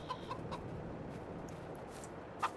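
Chickens of several mixed breeds cluck softly in a farming video game, a few brief, faint clucks scattered over quiet background ambience.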